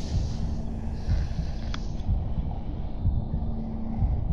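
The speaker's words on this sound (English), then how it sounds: "That heartbeat too. I have to get rid of the heartbeat." A heartbeat in Bendy and the Ink Machine, low muffled thumps repeating in a steady rhythm under a droning hum, moderately loud and continuous.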